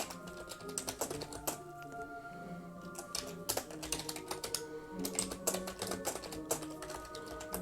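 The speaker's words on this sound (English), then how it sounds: "I'm typing it out." Typing on a computer keyboard, close and crisp, in irregular bursts of quick key clicks with short pauses between them, alone without talk.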